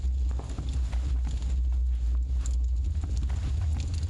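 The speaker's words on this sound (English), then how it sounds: "I thought I heard other footsteps. They are my own." Footsteps in a Three Little Pigs horror video game, a steady run of soft thudding steps that sounds close and loud, with no talking over it.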